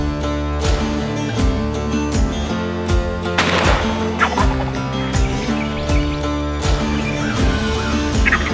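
Wild turkey gobbles in an early spring hunting setting, several loud rattling calls repeating in bursts with a layered, harmonic tone, heard alone without talk.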